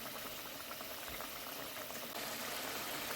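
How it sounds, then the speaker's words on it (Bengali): Water in a pan comes to a rolling boil for a sole fish curry, a dense steady bubbling hiss, close and uninterrupted. "ঝোলটা আমাদের ফুটে গেছে"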